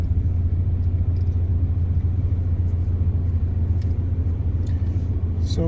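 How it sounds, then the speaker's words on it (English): A Porsche 982 with manual transmission idles after starting, its engine giving a steady low rumble that holds close and even throughout, with no talk. "So now the car is started, and we're on our way."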